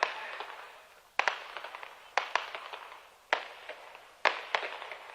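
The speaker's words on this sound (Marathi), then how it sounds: "फटाके काय थांबत नाहीत." Repeated sharp firecracker bangs in clusters of two or three, each followed by crackling decay, fairly close with quiet gaps between bursts, at a public political rally in Ahmedpur.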